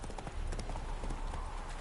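Horse hooves clip-clop in a steady walking rhythm in The Witcher 3, the game's hoofbeats close and clear over faint ambient game sound.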